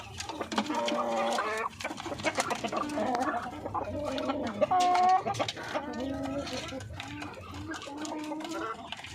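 Breeder hens on a backyard poultry farm cluck and cackle continuously, close and loud, with several overlapping birds and no talking.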